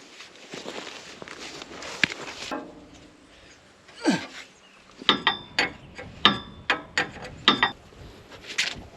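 A wrench ratchets on a bolt of a cotton harvester out in the field: a loud burst of sharp, evenly spaced clicks near the end, after quieter rustling and shuffling.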